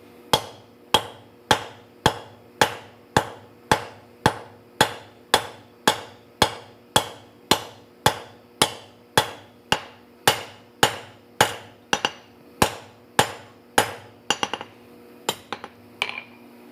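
Steady hammer blows on hot metal at a forge, about two ringing strikes per second, close and loud, continuing for over a dozen seconds before a few scattered final taps.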